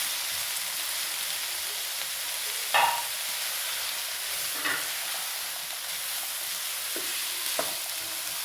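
Half-cooked peas and other vegetables frying in a pan for restaurant-style egg fried rice, a steady soft sizzle throughout with a few brief stirring scrapes at intervals.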